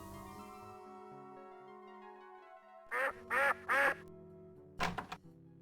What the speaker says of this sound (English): We did not hear a sound effect other than the ducks quacking and the water bubbling.